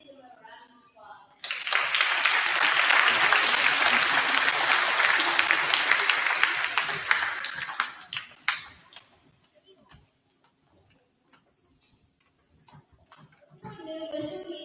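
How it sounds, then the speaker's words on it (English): Dense applause from a school assembly audience honoring a veteran at a Veterans Day event, swelling quickly, holding full for about six seconds, then thinning to scattered claps before a voice resumes speaking. "Please give him a round of applause."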